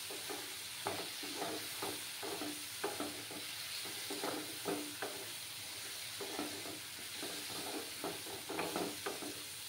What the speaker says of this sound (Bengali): আলু যে ভেজে রেখেছিলাম সেই আলুগুলো দিয়ে দিচ্ছি, দিয়ে মশলার সঙ্গে ভালো করে কষিয়ে নেব